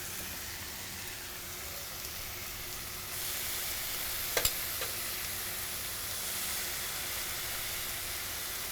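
Vegetables sizzle steadily on a Pit Boss grill griddle for a tailgating quesadilla, a continuous frying hiss that grows a bit louder partway through, with one brief sharp click near the middle and no talking.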